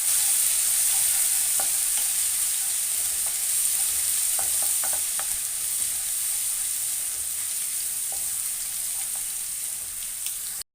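Garlic sautés in hot oil with a steady, bright sizzle and sparse popping and stirring taps, close and even throughout, ending abruptly.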